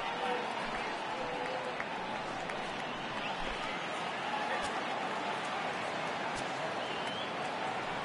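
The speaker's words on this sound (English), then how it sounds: "the home crowd seems a little restless" A simulated stadium crowd in the baseball video game MLB 18 gives off a low, continuous murmur with faint scattered cheers, restless before the first pitch, while a commentator talks over it.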